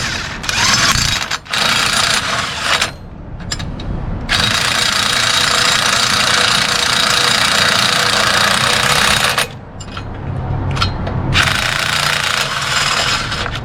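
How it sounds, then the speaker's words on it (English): A 19mm impact wrench drives bolts to fasten an aftermarket step onto a Massey Ferguson GC Series compact tractor, loud and close, with long sustained rattling runs broken by brief gaps. "I've got a 19mm impact here"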